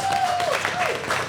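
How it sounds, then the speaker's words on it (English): Audience applause at a live podcast event after a sponsor, SAB, is thanked, steady and fairly full across the short stretch, with a whistle-like tone cutting through early on. "Let's give them a round of applause."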